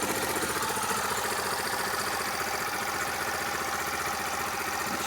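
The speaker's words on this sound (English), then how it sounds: "Just leave it to idle for a bit." A Yamaha YBR 125 motorcycle engine idles steadily on a hot day, a close, even mid-pitched putter with rapid regular firing pulses and no pauses or voices.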